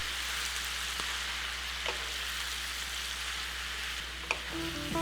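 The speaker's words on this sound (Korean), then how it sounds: "팽이버섯이 완전히 익으면 맛을 보고 조금 약간 후추 넣어 휘리리 볶아" Smoked duck, enoki mushrooms and bok choy are stir-fried in a pan with a pinch of pepper, giving a soft, steady sizzle. Occasional light utensil clicks sound near the end, with no talking.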